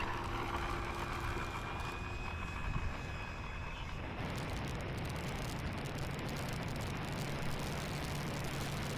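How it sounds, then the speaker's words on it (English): FMS Pilatus PC-21 1100mm model airplane taking off without flaps at about 80% throttle, a continuous electric propeller whine and rushing air that shifts in tone midway, heard from a distance and fairly faint. "No flaps, taking off."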